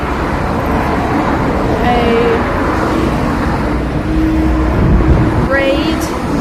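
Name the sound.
street traffic in Ginza, Tokyo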